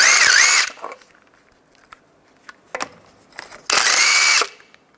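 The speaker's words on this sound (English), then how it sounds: "You would use a 22 millimeter socket to take those off." Power tool spinning off aftermarket lug nuts with a 22 mm socket on a 2007-2014 Chevy Silverado 2500 HD front wheel: two loud whirring bursts at start and end, with quieter clinks and handling noises between.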